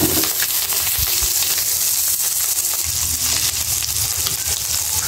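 Fish frying in a pan of hot oil, a steady loud close sizzle and hiss running throughout with faint crackles, no talking.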